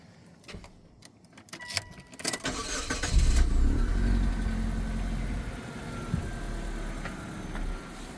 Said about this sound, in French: Le moteur tourne doucement.